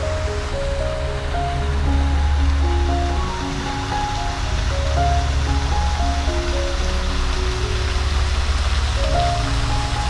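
Waterfalls and fountains flowing in Parc de Bagatelle, Paris, give a steady, full rush of splashing water that fills the whole stretch, with faint tonal sounds drifting in the background.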